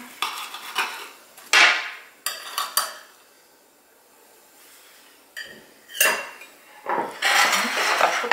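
Cutlery clinks and scrapes against a plate in short bursts while cutting matzo brei, with quiet pauses between strokes.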